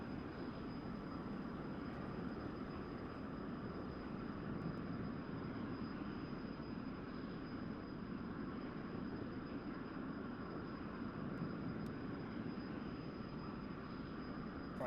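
An F-100D jet climbs in the DCS flight simulator game, a steady, dense engine roar with a thin high whine running throughout, with no voice.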